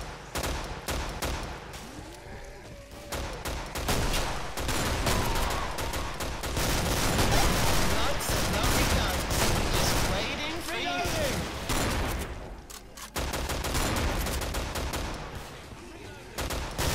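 Rapid gunfire from a hand cannon and other guns rattles almost without pause through a co-op session of the video game Killing Floor, with bursts and booms layered over players talking.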